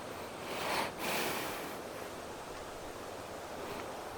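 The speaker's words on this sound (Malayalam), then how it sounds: "ഇവിടെ ഒരു വെള്ളം വീഴുന്നൊരു സ്ഥലമുണ്ട്" Falling water at the Chaliyakkara aqueduct in Kollam gives a steady rushing roar, broad and continuous, with a slightly louder gust-like swell near the start and no voices.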